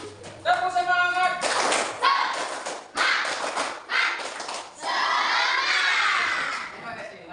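Schoolchildren in a classroom perform a rhythmic spirit clap, bursts of clapping in patterned groups broken by short pauses, mixed with children's chanting voices.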